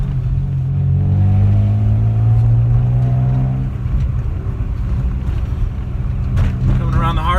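A 1995 Mazda MX-6 driving through a bumpy curve, with a loud steady engine drone and road and wind rumble inside the cabin, the engine note shifting partway through.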